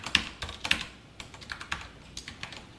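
Computer keyboard typing Python conditional code, a brisk uneven run of sharp key clicks with a few louder strikes, close and clear, no voices.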